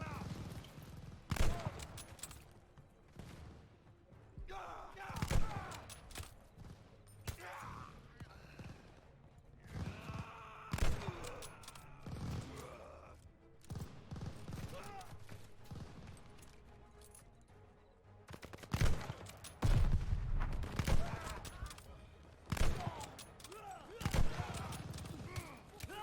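Gunfire in the World War II shooter Call of Duty: Vanguard breaks out in loud, scattered bursts and single cracks at irregular intervals, with quieter battle rumble between the volleys.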